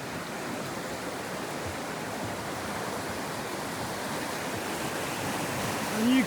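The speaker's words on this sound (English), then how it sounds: "Properly broken the banks of the Avon River. And you can hear the force, the power of that water." The flooded Avon River, bursting its banks, gives a steady, powerful roar of fast-moving water that stays close and unbroken throughout, with no one talking over it.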